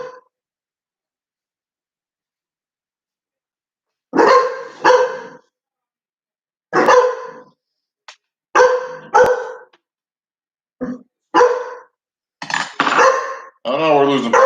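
Cane Corso dogs bark at a stranger in repeated loud, close bursts of several barks each, separated by short pauses, with no talk over them.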